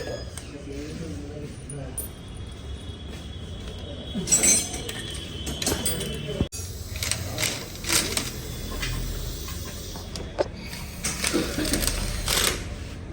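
Nuts are fitted and tightened on the engine cover of a Hero Xtreme 125R motorcycle during its first service, giving scattered metallic clinks and tool clicks up close while someone talks throughout.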